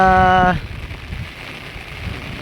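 Heavy overnight rain pours steadily where buffaloes are grazed, a dense even hiss that fills the clip after a short burst of voice at the start.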